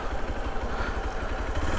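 A nearby motorcycle engine runs at a steady idle, giving an even, rapid low throb with light mechanical clatter and no voices.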